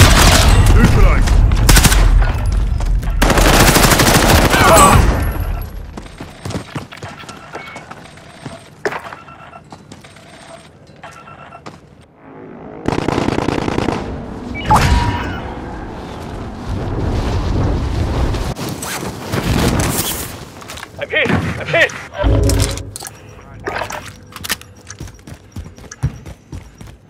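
Gunfire in a Call of Duty Warzone match: bursts of shots and fusillades come in loud clusters with gaps between them, over game sound effects and brief voice callouts.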